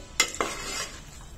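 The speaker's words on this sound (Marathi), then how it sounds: "गॅसवर आपण पुरणाचे भांडं ठेवलेले आहे। मंद आचेवर पुरण सतत परतत राहायचंय।" Sweet lentil puran being stirred in a pot over a low gas flame, with a couple of sharp scraping strokes and a soft continuous rasp between them, close and fairly quiet.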